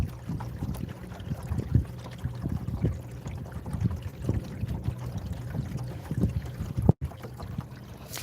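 A large boat's engine hums low across open water past summer houses, with wind buffeting the microphone and small splashes throughout; steady and fairly close, no talking.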